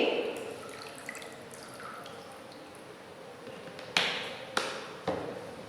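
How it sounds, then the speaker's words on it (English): Oil is poured into a container of water in a simple classroom pollution experiment, giving soft liquid trickles and a few sharp drips and splashes near the end, quiet and close, with no one talking. "So if I pour the oil, what will happen?"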